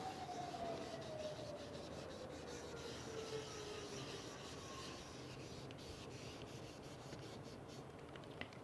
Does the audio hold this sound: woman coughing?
no